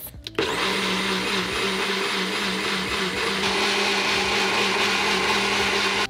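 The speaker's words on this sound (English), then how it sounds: "Let's mix this all together and put it in a food processor" A food processor blends spinach pesto in a continuous, loud, steady whir with a high motor whine, starting abruptly after a brief clatter as the lid is secured and running alone without pause.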